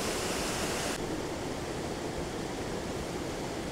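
A loud, constant roar of rushing water, broad and steady like a nearby waterfall, Watkin Falls on Snowdon, with no other sounds standing out.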